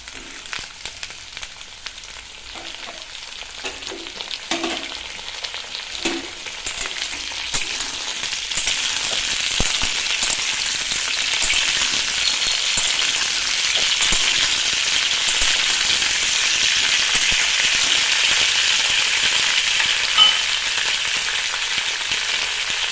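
Drumstick pieces sizzle in hot oil along with already-fried potato and pumpkin, a steady close frying hiss that grows louder and denser after the first few seconds and continues throughout with occasional small pops.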